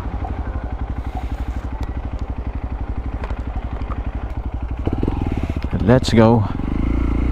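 A scooter engine idles with a rapid, steady putter on a dusty mountain road, close and loud, then revs up near the end as a voice speaks briefly.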